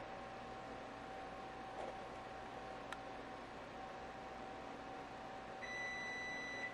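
A kitchen timer goes off after twenty minutes of baking elephant ears, a faint steady electronic tone that starts near the end over quiet room noise.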